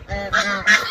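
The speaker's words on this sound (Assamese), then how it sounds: "আমাৰ হাঁহ বৰ চোকা" Domestic ducks honking close by, three quick loud nasal calls in rapid succession.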